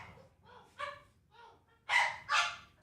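A big dog gives soft whimpery yips and then two loud, close barks in quick succession, with no talk over them.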